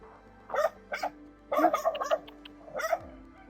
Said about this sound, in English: Hopefully I won't get attacked by a dog.